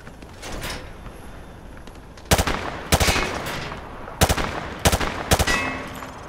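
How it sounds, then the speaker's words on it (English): Machine gun fire aimed at targets in Call of Duty Modern Warfare 2 Remastered: five sharp, loud bursts in uneven succession, rising out of a quiet background, with no voices. "He sprayed bullets all over the damn place."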